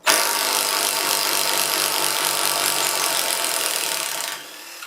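Cordless impact driver backing screws out of wood, a loud continuous rattling hammer close up, running unbroken for over four seconds before winding down.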